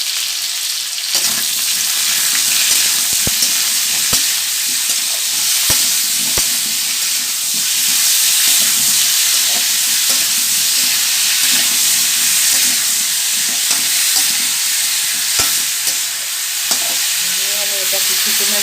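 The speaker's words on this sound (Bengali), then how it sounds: "এর মধ্যে একটু নুন দেবো, দিয়ে আমি নেড়ে নেব" Onions and tomatoes with salt fry loudly in a pan for a potato and peas curry, a dense continuous sizzle with occasional spatula clicks and scrapes throughout, close up with no voices.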